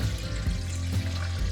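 Warm water poured into a bowl with sugar, a steady splashing and gurgling pour heard close up for a short moment.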